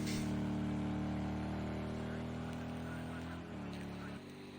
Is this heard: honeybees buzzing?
no